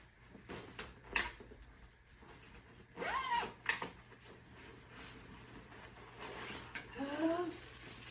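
A clothing zipper is pulled in a few quick rasping strokes, close by, amid soft handling noises.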